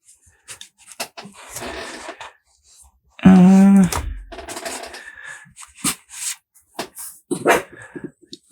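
Dogs in a home studio make a short burst of barking and panting around the middle, with quiet rustling and faint sounds before and after.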